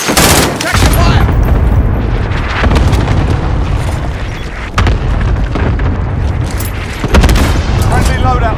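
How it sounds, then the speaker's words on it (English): Booming cluster-strike explosions and bursts of gunfire in the video game Call of Duty Modern Warfare, set at an airport, with repeated loud blasts over a dense, continuous battle din; in-game radio voices come through at times. "Allied cluster strike inbound."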